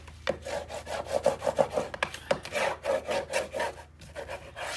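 A hand burnishing tool rubs back and forth on chipboard while a Christmas mini album is built, in repeated short scraping strokes that come close and fairly loud, with no voices.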